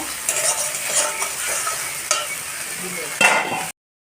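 Masala of turmeric and chili powder sautés in a pan for a rohu fish curry, a spoon stirring and scraping steadily through a lively, close sizzle until the sound cuts off abruptly.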